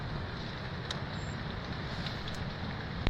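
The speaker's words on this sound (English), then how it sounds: "it's actually raining" Rain falls steadily outside on a remote Caribbean coastline, a soft continuous patter and hiss with a couple of faint drips or taps and no talking.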